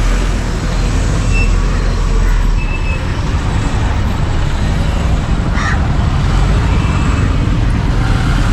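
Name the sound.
heavy road traffic in Colombo, Sri Lanka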